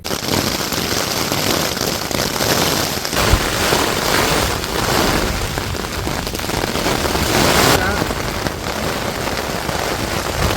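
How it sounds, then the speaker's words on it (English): Rain falling on a tent during a windy hiking trip on the Via Dinarica trail in Croatia, a steady dense patter with sharp crackling hits throughout, loud and close, no talk. "Still raining"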